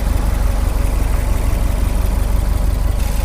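A 2002 Subaru WRX STi Prodrive Edition engine idles close by with a fast, even mechanical pulsing, loud and steady the whole time, no one talking.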